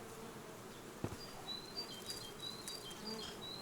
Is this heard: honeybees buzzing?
yes